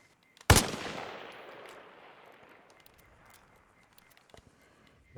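A single loud sniper rifle shot firing an armor-piercing round in Arma Reforger, a sharp close crack followed by a long rumbling tail that fades over several seconds, with a few faint clicks afterward.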